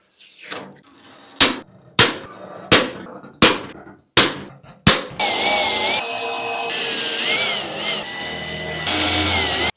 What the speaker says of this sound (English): drill the holes in the fenders so we can put some rib nuts in.